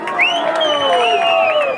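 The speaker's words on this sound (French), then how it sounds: "On l'applaudit bien fort" A crowd at a gathering cheers and whoops with a steady roar of voices, bright shouts and whistles rising over the din, close and loud for the whole moment.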